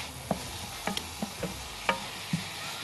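Carrots and green onion stirred in a hot pan, sparse scraping taps of a utensil about once or twice a second over a faint steady sizzle, close and quiet.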